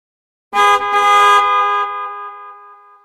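A loud car horn blares once, held for about a second before trailing off.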